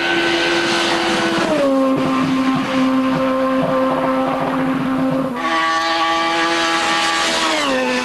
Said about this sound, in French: Voilà, la Clio est à fond, elle plafonne